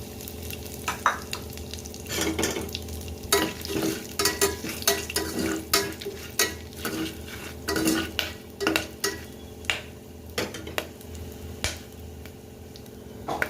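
Whole biryani spices and egg frying in a pan for egg biryani, with a steady sizzle under repeated sharp scrapes and clinks of a stirring utensil against the pan, close and fairly loud, no talking.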